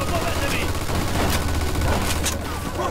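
Machine gun fire from a Mafia II firefight, a loud continuous burst of rapid shots filling the whole stretch with dense, rattling noise and no pauses.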